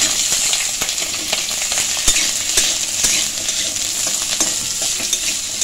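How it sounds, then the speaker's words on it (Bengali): Small cut potato pieces sizzle steadily in hot oil in a pan while a spatula scrapes and clinks against the metal now and then, close and alone without voices. "আলুগুলোকে আমি একটু ভাজা ভাজা করে নিচ্ছি।"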